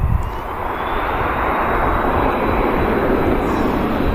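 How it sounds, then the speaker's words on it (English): Ryanair airliner touching down on the runway at Manchester Airport, a steady broad rumble of engines and rolling, constant and fairly loud throughout. "Ryanair next to touchdown"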